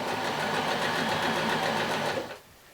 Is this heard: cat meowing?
no